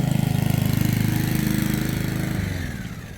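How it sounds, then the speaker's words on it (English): A lawnmower runs close by on an English council allotment in West Yorkshire, its engine chugging loud and steady with a fast rhythmic pulse before easing slightly at the end, with no voices. "she's just doing some lawnmowering"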